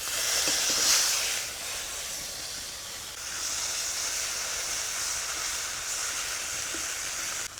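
Onion paste hits hot oil in a pan already seasoned with dried red chilli and cumin after frying fresh river fish, giving a loud, steady broadband sizzle that surges at first, then settles into a continuous hiss.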